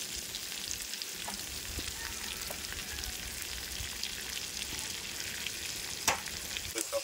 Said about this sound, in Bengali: সবটাকে ভালো করে তেলের মধ্যে আমি ভেজে নেব।